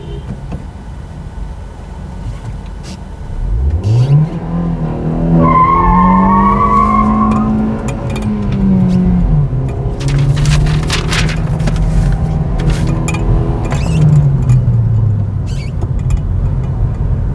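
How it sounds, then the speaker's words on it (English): A Hyundai Verna 1.6 petrol revs hard to about 5000 RPM and its wheels spin, producing a loud, sustained tire squeal with a rising engine whine, close by and alone. "I got a massive wheel spin"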